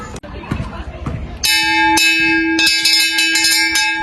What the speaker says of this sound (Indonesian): Tepat jam 10, bel istirahat pun berbunyi.